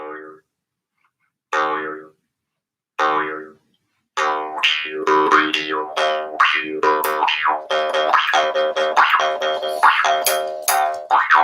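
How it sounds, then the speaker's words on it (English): A bamboo danmoi jaw harp twangs with short, resonant boinging notes, a few isolated plucks at first, then a continuous, rhythmic stream of wobbling, vowel-like tones, close and clear. "This particular one is made out of bamboo."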